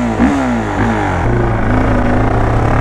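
A Nissan GT-R sports car accelerates on a busy street during crowd celebrations, its engine note climbing and shifting up close and loud, with traffic noise around it.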